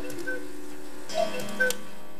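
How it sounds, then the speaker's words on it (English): Inside a cuckoo-and-echo clock, the mechanism ticks in a steady, even rhythm, close and clear, with a couple of brighter metallic clicks and no voices. "this is what happens inside a cuckoo clock"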